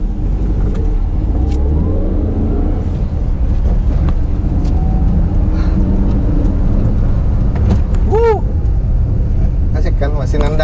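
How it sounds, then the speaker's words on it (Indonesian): A Suzuki Karimun Estilo small car accelerates with a steady, loud engine drone and rising revs throughout, heard from inside with road noise and a brief whistle-like tone near the end. "kita coba akselerasinya ya, torsi bawahnya ya"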